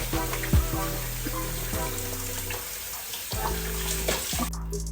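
Kitchen tap water running steadily while rice is rinsed in a pot, a continuous close hiss and splash with faint background music underneath.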